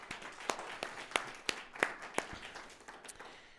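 Scattered handclaps ring out at a church service, a thin, fairly quiet patter of separate claps in a loose, even rhythm rather than full crowd applause.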